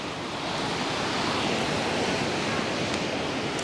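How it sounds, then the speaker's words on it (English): Ocean surf at sunrise, a continuous broad wash of breaking waves with steady rushing noise and some wind, heard close and full with no distinct individual crashes. "just take in the sounds of the ocean"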